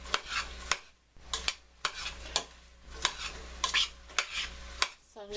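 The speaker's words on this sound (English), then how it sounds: "these onions cook a little bit with the celery." Onions and celery cooking in a soup pot, heard as a series of sharp utensil scrapes and stirring knocks against the pot at a steady rhythm over a faint low sizzle, close and alone with no talk.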